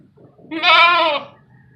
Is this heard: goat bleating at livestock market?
yes